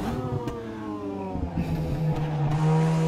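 Proton Saga race car with a 1.5 engine on 15-inch Advan Neova AD08 tyres in a racing simulator game, engine droning and revving steadily with rising tones and some tyre squeal, loud and continuous.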